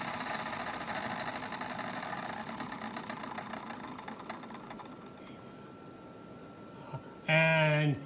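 A small electric motor whirs with a steady buzzing hum that fades and winds down over several seconds, followed by a brief louder tonal burst near the end.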